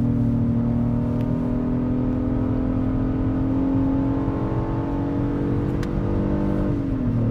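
An Acura MDX engine pulls hard in sport mode, heard from inside the cabin as a loud, steady rising drone that climbs through the revs before easing at the end.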